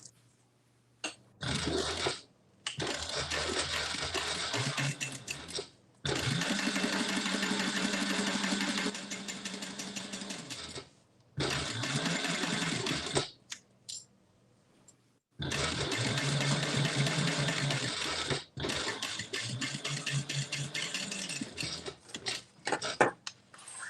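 A sewing machine stitches a zip around wallet in repeated bursts of mechanical whirring and clatter, several runs of a few seconds each separated by short pauses, close and fairly loud.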